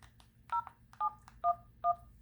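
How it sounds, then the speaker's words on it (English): Four distinct telephone keypad tones sound one after another at about half-second intervals while voicemail is being checked, clear dual-pitch beeps over a faint background hum, with no talking. "so the phone beeps"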